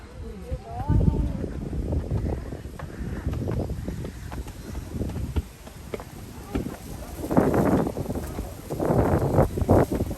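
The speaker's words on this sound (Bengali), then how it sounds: "অনেক বাতাস।" Strong wind buffets the microphone outdoors at Meghla tourist complex in Bandarban, gusty low rumbling surges that rise and fall, swelling hardest near the end, with faint voices mixed in.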